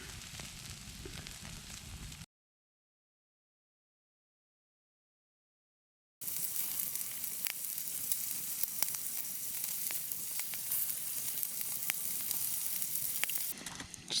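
Steak sizzles and fries in a pan at a winter campsite, a close, steady crackling hiss that cuts out for about four seconds, then resumes just as dense and continuous.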